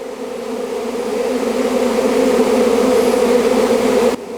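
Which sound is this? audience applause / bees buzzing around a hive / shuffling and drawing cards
bees buzzing around a hive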